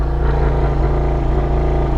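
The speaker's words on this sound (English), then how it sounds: "we're going to do a quick launch control in the TTRS" Audi TT RS launching under launch control, a loud, steady, close engine drone held at high revs through the whole short burst, heard from inside the car.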